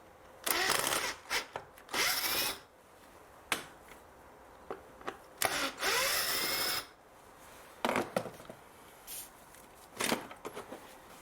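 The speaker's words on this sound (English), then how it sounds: "Gonna use a Torx T25. Just open the 4 screws." A Torx T25 bit on a powered driver undoes four screws on a 2012 Mercedes B180 W246 during a service, with short close bursts of whirring separated by pauses.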